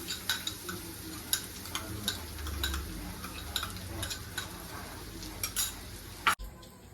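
Grated fresh coconut is sautéed in ghee for a sweet coconut vadi. A soft, low sizzle sits under scattered light clinks and ticks from stirring, then stops abruptly near the end.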